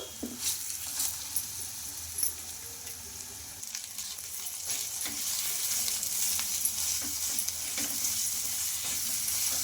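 Ground moong dal paste fries in hot oil in a kadai, giving a steady, close sizzle that grows slightly denser over time, with occasional light stirring taps.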